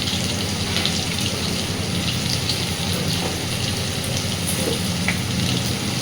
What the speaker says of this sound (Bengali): বেশ সুন্দর করে আলু ভেজে নেব।